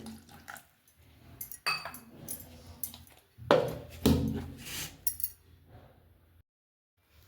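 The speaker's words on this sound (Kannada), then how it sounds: "ಸ್ವಲ್ಪ ನೀರು ಹಾಕ್ಕೊಳ್ತೀನಿ ಇದಕ್ಕೆ" Water is poured into a vessel of ground roasted masala powder, with splashing bursts and clinks of utensils. The sounds are intermittent and fairly close, with quiet gaps between them.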